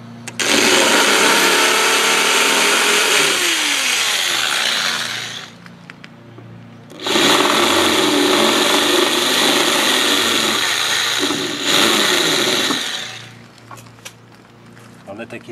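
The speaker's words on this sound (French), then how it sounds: "On va essayer de terminer les rivets." A power drill bores out the rivets holding a car licence plate onto a trailer, in two long, loud sustained whirring bursts with a high whine and brief pauses, close up.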